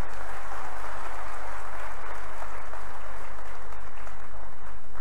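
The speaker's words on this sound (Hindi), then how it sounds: "तालियां बजाओ नसरुल्लागंज की।" An audience at a cricket-related event in Nasrullaganj claps, a dense and loud continuous wash of applause from a large crowd.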